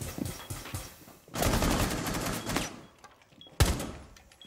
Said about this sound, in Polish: O kurde, ktoś mnie strzela.